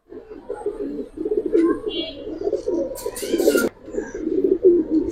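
Silver pigeons cooing in soft, repeated low warbling phrases close by, with a brief flutter and voices faintly mixed in.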